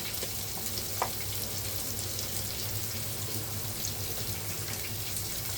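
Onion cooks in a pan alongside fried shrimp for a fish curry, giving a steady, fairly soft sizzle and crackle that continues throughout with no voices.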